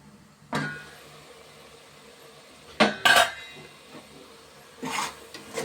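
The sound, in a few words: lid being placed on a cooking pot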